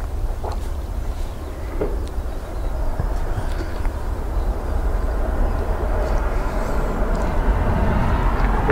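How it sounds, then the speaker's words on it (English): A Ryanair airliner arrives from Carcassonne at Dublin Airport, its distant engine roar building slowly into a broad, steady rumble under outdoor wind noise, growing louder toward the end. "Ryanair from Carcassonne next"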